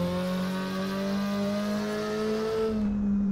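A Porsche 356 Coupé, rear-engined, laps the small Brands Hatch Indy circuit, its engine droning steadily loud and close with a rising pitch as it pulls through a gear, no voices over it.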